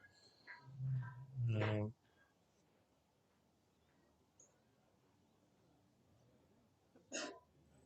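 One close sneeze during a T20 cricket match, a voiced build-up ending in a sharp burst, followed by near silence and a brief faint sniff later on.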